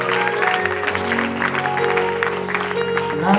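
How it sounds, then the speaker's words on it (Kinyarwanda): A church congregation claps together after a sermon, the applause blending with sustained organ or keyboard chords that carry under it for the whole short stretch. "Reka twongere dushimire Imana tuyikomera amashyi menshi"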